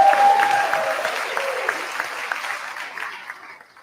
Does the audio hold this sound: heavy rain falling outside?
no